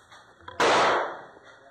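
A single sharp rifle shot fired during a rifle test, a loud close crack that decays over about half a second, with faint background noise before it.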